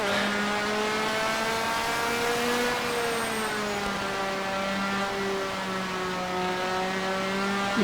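Engine of a racing motorcycle in MotoGP 4 at Phakisa Freeway, pulling hard under throttle, a loud steady high-revving drone with rising and falling harmonics running continuously, no voices.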